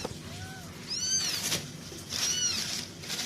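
A newborn kitten gives two thin, high rising-and-falling meows during a cat birth, close by over low background noise.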